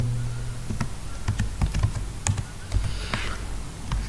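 Rapid typing on a computer keyboard while entering text in an HTML file, with close, irregular clicks of keys pressed in quick bursts and no talking.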